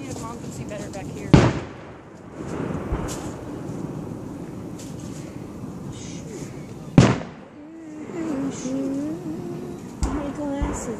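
Fireworks bursting at a Fourth of July display, with two loud sharp booms standing out and smaller pops between them, heard under steady nearby family chatter.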